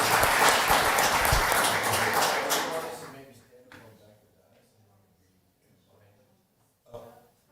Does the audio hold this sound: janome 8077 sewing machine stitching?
no